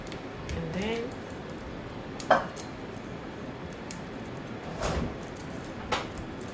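A knife cuts and separates garlic cloves on a board in a home kitchen while someone talks, a few soft irregular knocks and taps with one sharper click, low and close under the speech.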